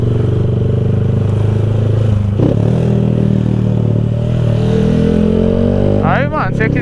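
A tuned Honda Fan 190 motorcycle rides through congested night traffic, its engine droning steadily and close throughout, rising in a brief rev near the end, with traffic noise around it.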